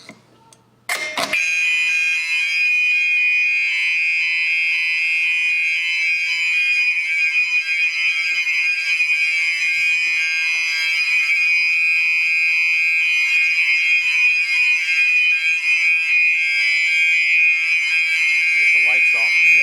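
A Notifier AFP-100 fire alarm system sounds after a BGX-101L pull station is pulled, starting abruptly and holding a loud, steady electronic tone nonstop, close by and alone.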